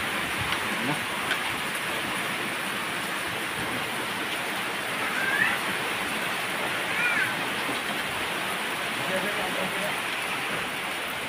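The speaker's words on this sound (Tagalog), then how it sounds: "Napakalakas ng ulan." Heavy rain pours down in a steady, dense roar, with a couple of faint higher sounds rising briefly above the wash.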